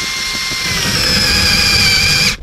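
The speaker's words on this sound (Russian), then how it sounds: "сейчас попробуем, как коронка будет брать" A WOSAI WS-MD13 20V cordless brushless drill cutting wood with an old hole saw, a loud, close, sustained high whine with steady motor tones that cuts off abruptly at the end.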